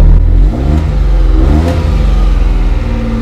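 A Suzuki Fronte SS40 (Fronte 550) carbureted engine, back from a no-start fault, running loud and close with a throbbing low rumble that rises and settles in revs.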